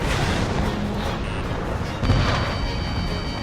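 A target explodes in the jet-combat video game Ace Combat 7 during a raid mission, a dense rumbling blast with a heavier thump near the middle, set against continuous roaring noise.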